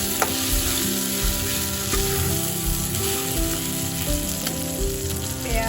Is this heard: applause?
no